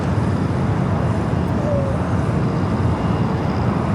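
A Boeing Dreamliner airliner arriving at LAX produces a steady, distant broadband jet roar that holds evenly throughout with no voices over it.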